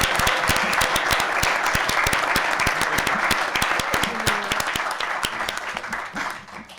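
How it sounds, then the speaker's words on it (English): Crowd at a school board meeting applauding a teacher, brisk dense clapping with many sharp individual claps standing out, loud and steady throughout before fading in the final second. "let's give him a round of applause as well"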